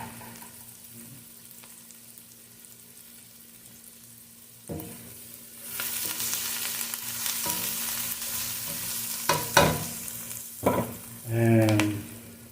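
Chili being added to a sizzling pan for kinamatisang banak, a Filipino sea mullet dish, gives a sudden loud burst of frying hiss with stirring clatter and scraping, close and alone with no talk.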